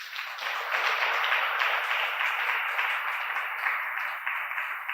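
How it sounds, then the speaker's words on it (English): Student audience at a talk session at Academic City University College in Accra, giving a steady round of applause, a dense, even patter of many hands that holds for several seconds before thinning slightly. "Can I have a louder round of applause?"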